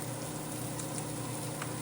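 Vegetables sauteing for chicken fried rice on a Ninja Sizzle griddle, a steady close sizzle and hiss that holds unbroken for the whole moment.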